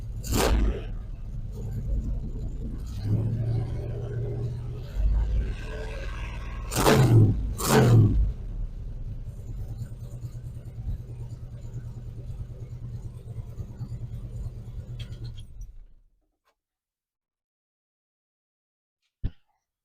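A 1975 Dodge Dart engine on jack stands with falling oil pressure, rumbling steadily and swelling in two sharp throttle blips before settling back to idle, then cutting off into silence near the end.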